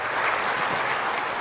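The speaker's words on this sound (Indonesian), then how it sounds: "Berikan tepuk tangan untuk Bapak Mentan kita." An audience at a national working meeting of Indonesia's ministry applauds the Minister of Agriculture, a steady, dense burst of clapping filling the whole short moment.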